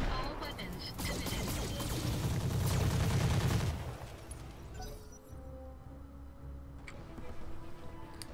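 Mech weapons firing in the video game Roguetech, a dense rattling barrage of shots for several seconds followed by scattered ticks and lighter bursts, fairly quiet in the mix.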